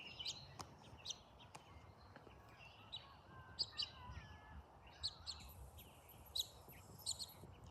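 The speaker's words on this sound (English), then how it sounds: "there's a bird" A bird calls outdoors in a series of short, high chirps and tweets, spaced irregularly and fairly faint over a soft ambient background, with no one talking.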